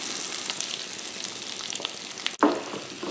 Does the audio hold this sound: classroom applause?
no